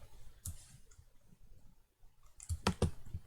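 Faint, sharp mouse clicks from someone selecting edges in FreeCAD, a few scattered single clicks, then a quick cluster of crisp clicks near the end.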